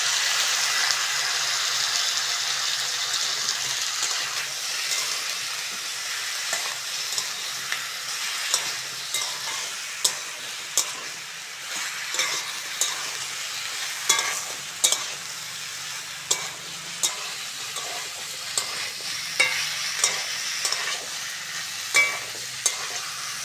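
Sliced flat beans and eggplant frying in hot oil with potato and onion, a steady sizzle broken by regular spatula scrapes and stirs against the pan, close and unaccompanied by speech.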